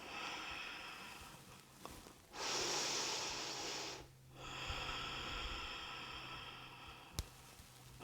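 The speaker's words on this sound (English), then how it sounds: "palms face, take a big breath" A big, deep breath taken during a standing yoga pose, a long breathy inhale swelling for about two seconds, then a softer steady exhale, close and quiet, with no talking.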